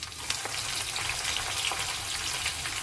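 Garlic, then onions, sizzle in hot oil with mustard seeds as a tempering for an eggplant sambal, giving a steady close frying hiss flecked with small crackles and pops.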